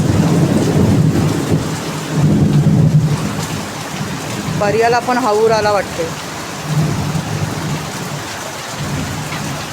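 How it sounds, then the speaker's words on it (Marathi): Thunder rumbles low and heavy through a steady monsoon downpour in the Konkan, rising and fading over several seconds while someone speaks briefly in the middle. "हे बघा काय गडगडाचा आवाज येतोय ना"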